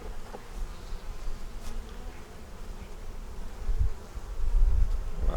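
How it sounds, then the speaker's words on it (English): Honey bees swarm around an open beehive frame during an inspection, a steady close buzzing hum that rises and thickens toward the end, with occasional louder passes near the ear. "A lot of bees."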